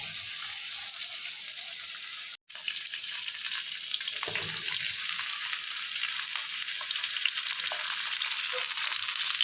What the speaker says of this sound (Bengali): এখন আমড়াগুলো দিয়ে দেবো এক এক করে।